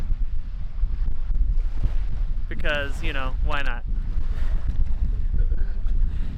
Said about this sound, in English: It is windy as hell right now.